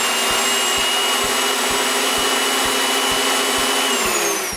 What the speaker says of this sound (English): I wanted to try the cutter head.